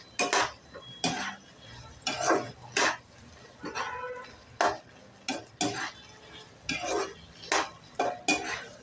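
A utensil stirs soya chunks into sauce in a pan, giving a string of close, sharp scraping clinks and knocks that come in irregular bursts, with quiet pauses between strokes.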